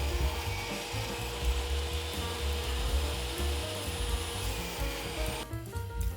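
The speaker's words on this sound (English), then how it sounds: "I started by roughly trimming them down to a more manageable length." Scraps of 3/4 inch wood trim being cut down to length for the slats of a cat tower box, a steady, loud, rasping cut running continuously without a break.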